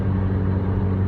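A steady, low exhaust drone hums from inside a MKV GTI with a resonator delete and 3-inch catless downpipe, constant and loud without variation.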